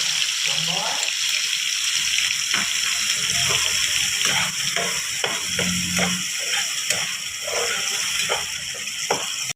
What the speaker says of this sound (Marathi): हे ओलं खोबरं आणि अद्रक लसूणची पेस्ट आहे, ती तेलात परतून घेते।